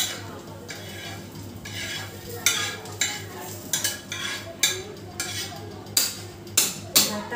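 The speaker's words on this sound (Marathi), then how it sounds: "भाजलाय मसाला, आता काढून घेते प्लेटीमध्ये" A roasted spice mix is scraped out of a pan onto a plate, with repeated short metallic scrapes and clinks at an uneven rhythm, close by and moderately loud over a steady low background hum.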